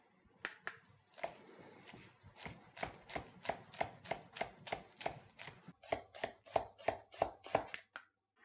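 A knife slices spring onions on a board in a quick, steady run of about twenty crisp strikes. The cuts are close and quiet, with no voices.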